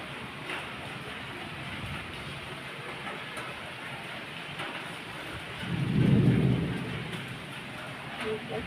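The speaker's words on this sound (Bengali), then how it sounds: "ভাল লাগছে, একটু জোরে হোক বৃষ্টিটা।" Heavy rain pours steadily at night, a dense constant wash of sound, and one deep rumble of thunder swells and fades midway through. No one speaks.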